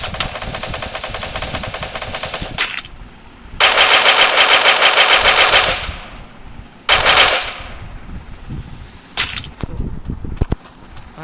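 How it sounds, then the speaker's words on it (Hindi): Rapid automatic gunfire in the battle-royale video game Free Fire, loud bursts of fast shots in several separate volleys with short gaps, followed by scattered single clicks and thuds, no voices. "मेरे को फायर कर रहा है"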